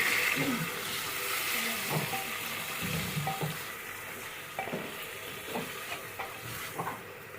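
Ginger paste frying in a pot for biryani, stirred with a few knocking scrapes over a continuous close sizzle that eases slightly toward the end.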